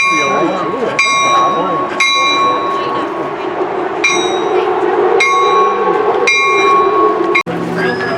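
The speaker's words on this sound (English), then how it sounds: "Oh, there's a bell there." A railroad crossing bell clangs in a steady rhythm, about one strike per second, loud and close, over a continuous low rumble as a train passes at a railroad museum; voices are faintly present.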